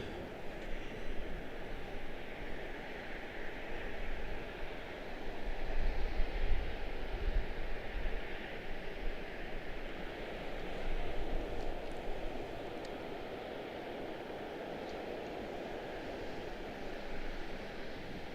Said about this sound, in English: CRJ7 SkyWest 4830 will be our first departure